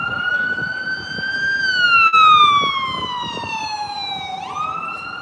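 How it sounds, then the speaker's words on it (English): Loud emergency vehicle sirens wail on a busy Manhattan street, a steady sweeping tone gliding slowly down and then jumping back up, close and dominant over the rumbling traffic and crowd noise beneath. "tons of sirens, which is not out of the ordinary"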